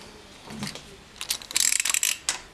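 A ratchet working the screws on the oil filter housing of a BMW E46 with the M54 engine, giving a few slow clicks and then a quick burst of sharp, close clicking near the end.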